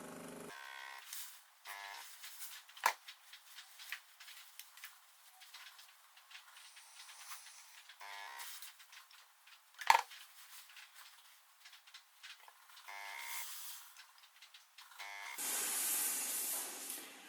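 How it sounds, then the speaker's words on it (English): A steam iron presses the lining of a sleeveless dress: a quiet stretch of faint handling clicks, then a short, bright burst of steam hiss near the end, close and fairly soft. "Don't be afraid to use a little bit of steam, because it will secure the lining in its position."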